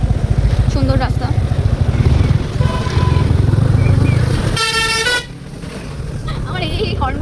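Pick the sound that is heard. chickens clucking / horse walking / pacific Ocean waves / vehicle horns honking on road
vehicle horns honking on road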